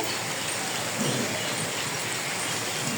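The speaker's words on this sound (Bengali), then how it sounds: "এই যে বৃষ্টি হচ্ছে" Rain falls steadily, a dense, even broadband hiss of drops that holds at the same level throughout the short stretch with no voices.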